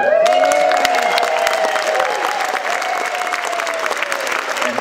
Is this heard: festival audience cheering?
yes